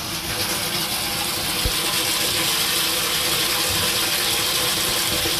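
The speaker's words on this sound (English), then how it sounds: "Just an enormous amount of water pressure." Water gushes hard and steadily from a gravity feed irrigation system for an outdoor cannabis grow, a loud continuous rushing flow with faint mechanical ticking underneath, heard alone throughout.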